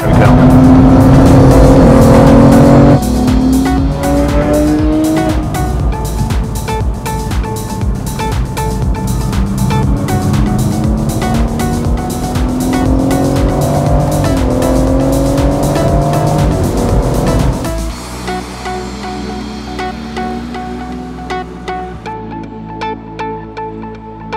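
Porsche GT3 RS and other sports cars lap the Nürburgring, with loud engines revving up and down through gears and cars passing by for a long stretch, then fading toward quieter, distant running.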